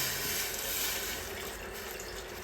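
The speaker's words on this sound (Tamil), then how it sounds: "3 பேருக்கு ஏற்ற மாதிரியான தண்ணி விடணும்." Water pours into a pot for masala tea, a steady splashing gush that runs continuously and eases slightly toward the end.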